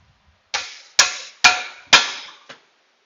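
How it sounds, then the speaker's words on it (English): Hammer striking a pickle fork to separate a ball joint on a 2005 Honda suspension: five sharp metallic strikes about half a second apart, close and loud, the last one lighter. "I'm going to just use a pickle fork and a hammer."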